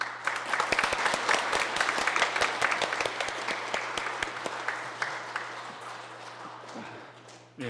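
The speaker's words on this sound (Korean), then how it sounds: "다시 한번 큰 박수 부탁드립니다." Sustained applause from a church congregation during Sunday Mass, steady dense clapping for about six seconds that gradually thins and fades near the end, with no voices over it.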